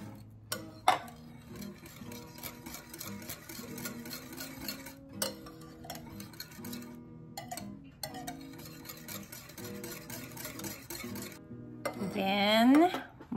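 Evaporated milk being stirred into a bowl of watery fruit salad, with repeated clinks and scrapes of a utensil against the bowl, close and moderately loud throughout.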